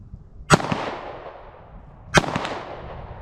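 Two sharp Sig P365 XL pistol shots at an outdoor range, about a second and a half apart, each a loud crack with a short decaying echo.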